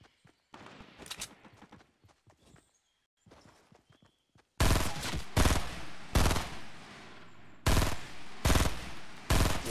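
Gunfire in a Fortnite match, first scattered quieter shots and clatter, then loud, close bursts of rapid shots in several sharp volleys with brief gaps between them.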